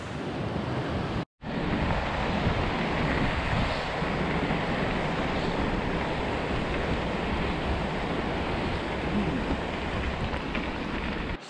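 A large mountain stream rushes in the Villgraten mountains, loud and continuous broadband roar close by, broken by one brief dropout near the start.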